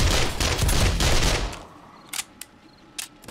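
Automatic turrets firing during a horde night in 7 Days To Die: a loud, dense burst of rapid gunfire lasting about a second and a half, then a few short, sharp isolated shots over quieter background.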